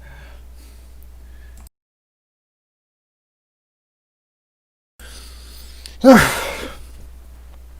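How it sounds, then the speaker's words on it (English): A single short, sharp sneeze bursts out after a stretch of near silence, close and fairly loud, trailing off quickly. "Excuse me, I have to sneeze."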